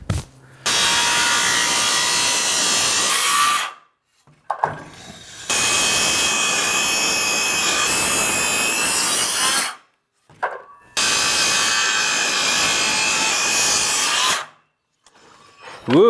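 DeWalt brushed power saw cutting through wood, three long loud rasping cuts separated by short pauses, each starting and stopping abruptly.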